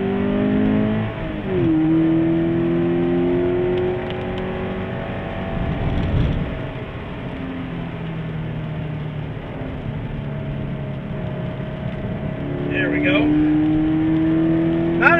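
A 2017 Subaru BRZ lapping a race track in the rain gives a steady engine drone that rises and falls with revving through the corners, heard up close, with a voice talking over it.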